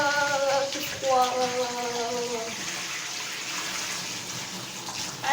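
A hot water tap runs in a steady, moderately loud gush into a basin, with a brief tonal whine from the plumbing early on before the flow settles into a plain rushing stream.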